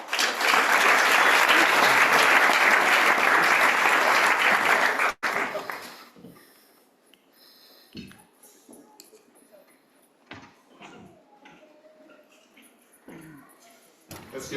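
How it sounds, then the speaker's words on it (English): Dense, loud audience applause at an awards watch party fills the first five seconds, then cuts off abruptly, leaving sparse quiet noises and faint scattered sounds. "Let's get one more round of applause"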